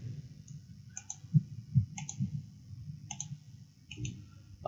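Repeated computer mouse clicks during work in Adobe Illustrator, coming in small quick pairs and singles spaced about a second apart, crisp and close over a low steady background hum.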